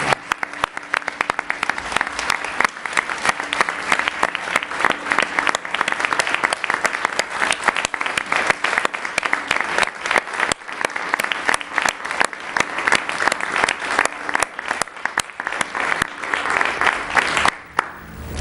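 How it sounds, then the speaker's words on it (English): An audience at a Portland school board meeting claps steadily for the whole stretch, dense and even applause that fades out at the very end. "let's give all of them a round of applause"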